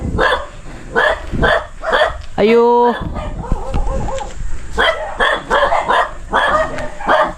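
Several sharp dog barks in short bursts, fairly close, with a person calling out between them.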